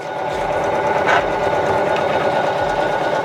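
A Poolin EO embroidery machine stitches down an appliqué with a steady, fast mechanical whirring and rapid needle rhythm that holds loud and unbroken throughout, close to the machine with no talking.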